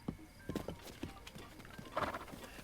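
In Breath of the Wild, a horse's hooves clip-clop at a quick, uneven trot, quiet and close, with a few sharper hits standing out.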